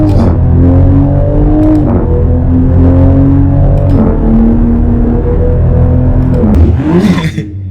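A BMW 3 Series in the Assetto Corsa racing game drones loudly with a steady engine note. A few sharp exhaust pops and crackles break through it, with a cluster near the end as the revs drop.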